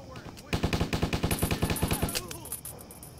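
Rapid automatic gunfire from a soldier's gun in Stubbs the Zombie, a loud burst of about fifteen evenly spaced shots lasting over a second, then a few scattered echoing shots as it trails off.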